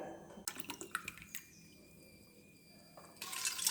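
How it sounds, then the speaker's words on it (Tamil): Water is poured into a cooking pot for mutton biryani: a quiet, close trickle and splash in short bursts, then a fuller pour toward the end. "தண்ணி ஊற்றலாங்க."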